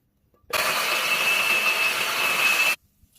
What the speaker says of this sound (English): so I finished cutting up my coconut, so I'm just gonna go right ahead and blend it